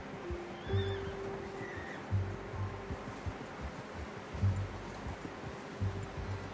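A horse whinnies briefly amid a low rumbling ambience in Red Dead Redemption 2, with soft hoof-like thuds recurring every second or so.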